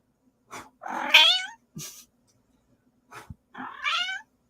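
A cat meows twice, close by, each a rising, slightly strained cry, with soft shuffling and a faint thump in the quiet between them.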